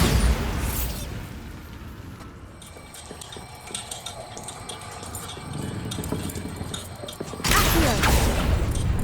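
A Bombarda blasting spell goes off in Hogwarts Legacy: a loud, broad burst at the start, a rumbling mechanical wash through the middle, and a second heavy blast near the end.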